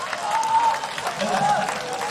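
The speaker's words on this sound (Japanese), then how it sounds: "どうぞ拍手でお迎えください。" An audience at an all-night cosplay festival stage event claps to welcome a special guest, a moderate, steady patter of applause from a crowd, somewhat distant and continuous through the short stretch.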